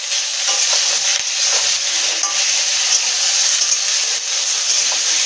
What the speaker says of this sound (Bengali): কাঁচকলা ডাঁটা আর টমেটোটা ভেজে নেব।